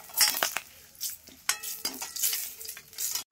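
Bay leaves and mustard seeds spitting and crackling in hot oil in a kadai, with intermittent sharp pops and a ladle scraping and clinking against the pan, fairly close and without talk.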